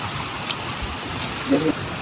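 Steady rain falls over an outdoor village cooking area sheltered by an umbrella, a soft continuous hiss with a brief brighter blip midway.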